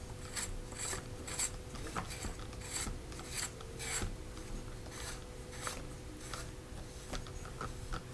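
Rhythmic rasping scrapes from threading a Benjamin Marauder semi-auto air rifle barrel in against the resistance of an O-ring, steady repeated strokes close up and alone.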